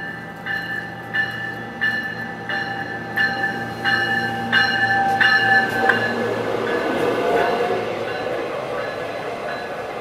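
A light rail train in Denver sounds a steady series of repeating electronic chimes, then its motor rumble and wheel noise build as it pulls through the platform.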